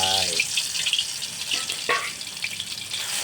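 Thai chili paste for nam prik ong fries in hot oil, a dense loud sizzle close by with a stir or scrape mid-way and a brief tonal sound at the very start.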